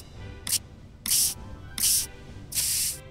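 Four short bursts of spray hiss as a fossil is cleaned in a dinosaur fossil hunter video game, the first brief and the others longer, separated by quiet gaps.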